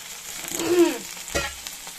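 Sajne (drumstick) flowers are stirred in a frying pan, with a soft, close sizzle and a couple of brief scraping stirs.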